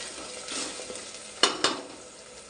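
Pigeon peas and vegetables, including potato, sizzle in hot oil in a pan with a steady frying hiss, broken by a few sharp scrapes and clinks from a stirring spoon, close and alone.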